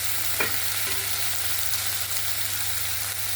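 Grated tomato sizzles with onion, ginger and garlic in a pan in a village kitchen, a steady close hiss of frying with a couple of brief stirring scrapes near the start.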